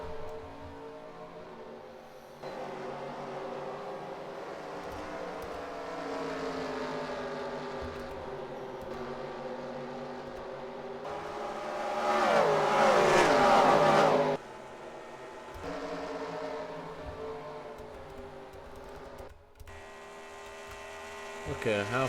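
A pack of race trucks roars around Kansas track in a racing video game, a steady, loud layered engine drone that swells sharply as the trucks bunch up and pass close, then settles back to a sustained hum.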